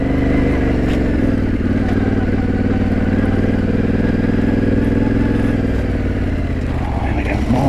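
Yamaha T7 adventure motorcycle riding an off-road trail through slop and branches, engine rumbling loud and close throughout with steady throttle changes and occasional clatter, under a rider's talk.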